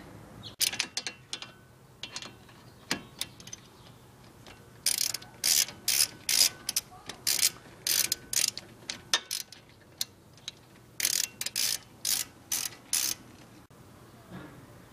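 A ratchet tightens the front brake caliper bolts on a 2006 Infiniti G35 sedan, producing close, crisp runs of rapid clicking in repeated bursts with short pauses between strokes.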